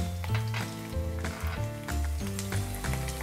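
Mustard seeds, urad dal, chana dal, fenugreek, garlic and dried red chilies tempering in hot oil, a continuous sizzle with crackles under a strong repeating tonal hum, no speech.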